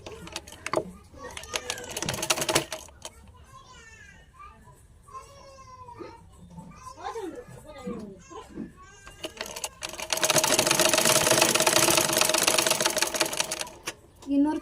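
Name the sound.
sewing machine stitching a shoulder seam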